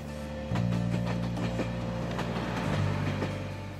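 The Seven Stars luxury train in Kyushu starts up with a low, steady mechanical hum and rolls slowly, its wheels giving occasional soft rhythmic clicks over the rails.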